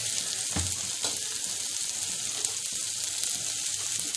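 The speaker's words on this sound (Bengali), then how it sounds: "জিরে গুঁড়ো আর টমেটো দিয়ে আদা দিয়ে আমি কষাচ্ছি" Spice paste of ground cumin, tomato and ginger sizzling hard in hot oil for a rohu fish kofta curry, a loud steady frying hiss with a few stirring scrapes near the start.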